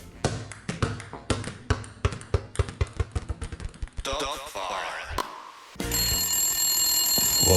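A run of sharp, rhythmic taps and clicks, then a telephone rings with a steady, continuous electronic tone that holds to the end.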